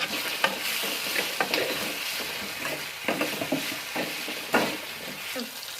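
Chopped tomatoes and salt fry in a pan with a steady close sizzle, broken by repeated scrapes and clicks of stirring.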